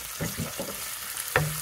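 Ham hitting a hot pan with garlic for Japanese-style mentaiko mayo pasta, giving a steady close sizzle with a few stirring scrapes and a sharp clink near the end.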